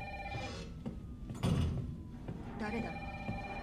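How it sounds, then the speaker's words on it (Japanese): Telephone ringing in the survival horror game Resident Evil 3 remake, a repeating electronic ring under someone talking over game ambience and background noise. "ブラッドの電話を取ろう。"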